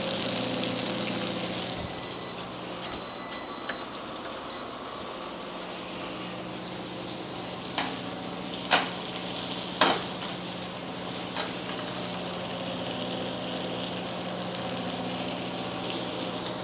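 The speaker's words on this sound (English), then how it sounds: "So this is the third sear of the second side." Steak sears in a hot pan with a steady, loud sizzle and crackle, a few sharp spits and pops standing out midway.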